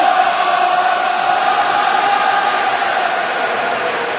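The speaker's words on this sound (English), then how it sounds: "Listen to that crowd. They know they've got the momentum now." Rugby stadium crowd at a Champions Cup quarter-final roaring steadily, a dense, loud continuous wall of cheering and bellowing with no break.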